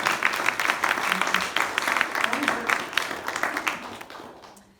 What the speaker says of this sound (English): So another big round of applause for Patty.